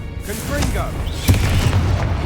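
In a video game, a spoken Confringo spell is followed by a deep, booming blast that rumbles low and heavy, with a voice briefly audible just before it.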